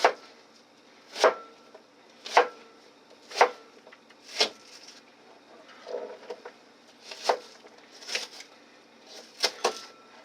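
A knife chops food on a cutting board for deep dish pizza, with about ten sharp, separate knocks spaced roughly a second apart, close and clear, with no voices.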